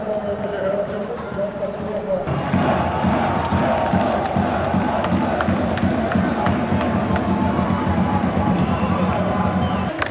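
Football supporters cheer and chant in a stadium at a Georgia under-21 national team match, a loud, continuous roar of the crowd with nearby voices mixed in throughout.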